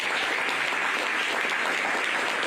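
Steady audience applause at a business presentation in Freeport, Bahamas, filling the whole stretch as a dense, even wash of clapping from a room full of people, with no talk over it.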